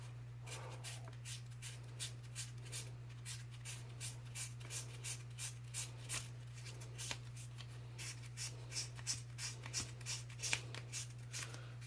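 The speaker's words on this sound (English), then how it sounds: "And you sand it more." Hand-sanding putty with abrasive paper, a steady run of short, quiet rasping strokes in an even rhythm over a constant low background hum, close to the listener.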